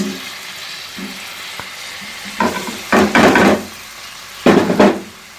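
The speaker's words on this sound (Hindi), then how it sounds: "अब इनको भी अच्छे तरीके से मिक्स करेंगे ताकि नमक मिर्च इनमें भी मिक्स हो जाए" Tomatoes with salt and chili being stirred in a frying pan for bhindi masala, with a soft sizzle and a few loud scraping stirs near the end, close by and alone.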